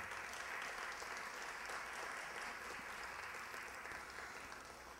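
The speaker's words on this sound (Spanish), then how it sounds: "pido recibamos con un fuerte aplauso" An audience at a Miraflores ceremony honouring local women applauds the mayor: sustained, even clapping from a large crowd, fairly distant and soft, holding steady for several seconds without speech.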